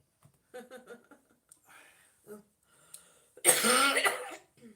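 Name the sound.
cough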